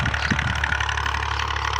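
A tractor engine runs steadily in a field during soil levelling, a continuous mid-pitched idle-like drone with faint knocking, close and unbroken throughout.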